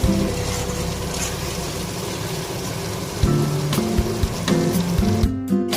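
Eggplant fries in a pan over a gas flame with a steady sizzle as it is stirred, with brief scraping bursts toward the end.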